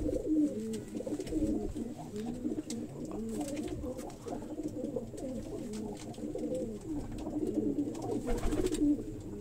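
Breeder pigeons coo in a loft, overlapping rolling calls repeating steadily and close, with no talking over them.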